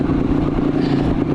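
A 1975 Yamaha DT250 dual-sport motorcycle climbing a mountain trail, its engine droning steadily and loudly up close for a brief stretch.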